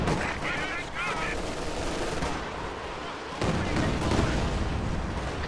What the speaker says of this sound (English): Katyusha dealing massive damage in the area